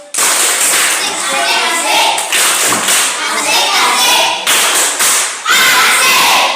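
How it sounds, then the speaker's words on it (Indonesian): A classroom of students performs the rhythmic tepuk asik clapping chant as group 2 is applauded, with dense claps, patted beats and children's voices chanting together throughout, loud and close. "kita berikan apresiasi kepada kelompok 2 dengan tepuk asik"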